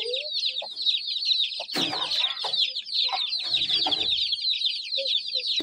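A mother hen clucks in low, short bursts while her small chicks peep continuously in high, overlapping chirps close by. The peeping runs throughout and the clucks come in a loose, uneven rhythm.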